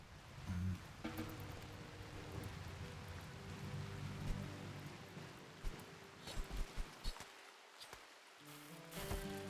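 Rain falls steadily in the video game RimWorld as a soft, continuous hiss. Scattered drops and sharper taps break through, and the level dips briefly near the end before the rain picks up again.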